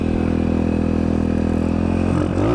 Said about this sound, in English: Bike-O is running pretty good, pretty hot.